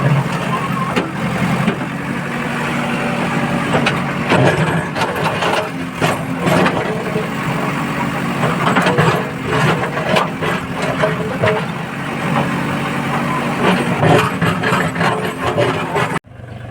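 A tractor loaded heavily with stones idles with a steady mid-pitched diesel rumble, its tyres squashed by the weight. Occasional knocks and clatter sit over the continuous engine drone nearby.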